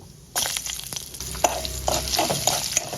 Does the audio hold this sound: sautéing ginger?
yes